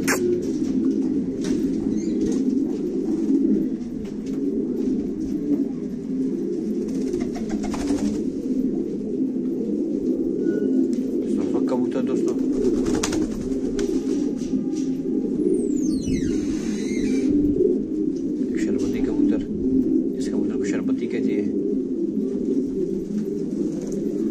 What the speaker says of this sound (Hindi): रेस पे छोड़ने वाले कबूतर को कहते हैं।